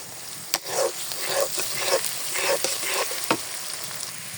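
Chopped onions, about two cups, sizzle steadily in hot oil with cardamom pods and cinnamon sticks, close and fairly loud, broken by occasional sharp scrapes and clicks of a stirring spoon against the pan.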